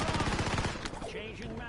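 Rapid automatic gunfire from a weapon emptying its magazine in Call of Duty Warzone, a dense, loud burst of evenly spaced shots lasting about a second before trailing off into game noise.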